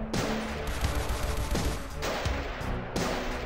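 Dense, sustained enemy gunfire in the shooter game Eisenfaust: Legacy, a continuous loud barrage of overlapping shots with bursts pulsing throughout and no speech.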